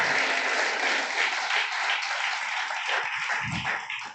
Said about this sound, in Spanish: Dale un aplauso al Señor en esta hora